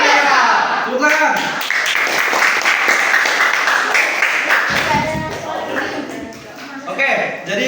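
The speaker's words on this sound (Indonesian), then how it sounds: "Luar biasa. Tepuk tangan." A class of children clap their hands together in a school lesson, a dense burst of close, lively clapping mixed with voices and chatter that thins out toward the end.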